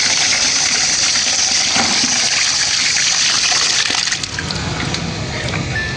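Water gushes steadily from a hose in a continuous loud hissing flow, with a few faint knocks and clatters near the end.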